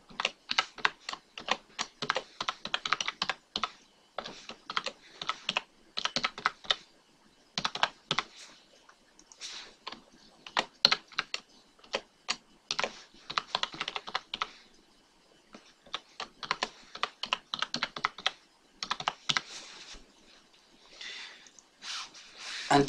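Fingers tapping out a password on a computer keyboard in close, quick bursts of clicking keystrokes, broken by short pauses, with no voices.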